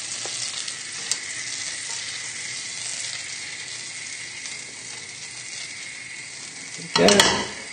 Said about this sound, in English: As the butter's melting, we can add the shallots, and they'll just start cooking out.